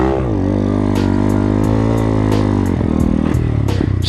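A Honda Grom clone mini bike engine holds a loud, steady buzzing drone during a wheelie, pitch sagging briefly then climbing again as it revs, with faint rhythmic clicks over the top.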